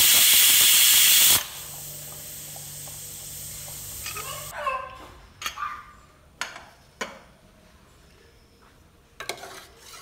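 A closed pressure cooker with curry inside blasts a loud, steady hiss of steam that drops to a softer hiss before stopping. A dog then barks several times nearby.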